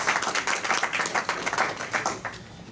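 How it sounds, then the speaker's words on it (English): A small group at a Rotary Club meeting claps steadily for a few seconds, a dense patter of hand claps with no voices over it. "I think that does deserve a clap."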